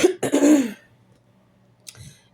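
A person clears a dry throat with two quick, rough rasps close to the mic, followed by near silence and a faint, short exhale-like rasp at the end.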